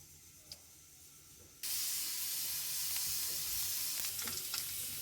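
Dried Bombay duck (loitta shutki) hits hot mustard oil: a faint quiet start gives way to a sudden loud, steady crackling sizzle that fills the rest of the clip.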